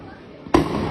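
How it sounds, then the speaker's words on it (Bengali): A single sharp bang, like a gunshot, cracks out in an alley amid street clashes, loud and close, with shouting voices before and after it. "গলির ভিতরে গুলি করতেছে গলির ভিতরে"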